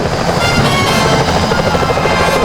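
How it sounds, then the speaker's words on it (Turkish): Security helicopters in a heist video game, a loud, steady rotor drone with rapid blade chop that fills the whole clip, with no talk over it. "O güvenlik helikopterleri sakat olabilir."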